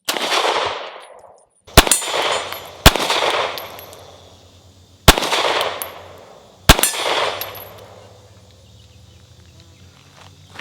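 A Sig P365XL pistol fires NATO spec ammo in five sharp, loud shots spaced unevenly over several seconds, each followed by a ringing decay, with a faint click near the end.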